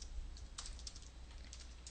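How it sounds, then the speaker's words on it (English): Quiet computer-keyboard typing for a Microsoft Word 2007 outline, a steady run of soft key clicks at an uneven rhythm over a low constant hum, with no talking. "I can just start typing text"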